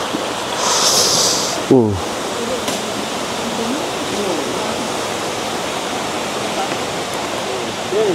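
Steady rushing water of a mountain stream on Mt. Makiling flows continuously close by, with a brief sharp sweep of another sound near the start.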